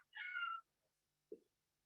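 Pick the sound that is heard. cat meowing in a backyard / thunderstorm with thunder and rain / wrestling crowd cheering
cat meowing in a backyard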